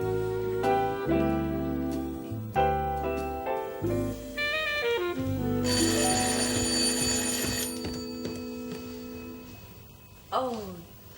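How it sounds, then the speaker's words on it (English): A telephone bell rings in a series of bursts at a home in a sitcom scene, with a bright tone heard against background music and brief sounds from people. "Your bloody phone woke me again!"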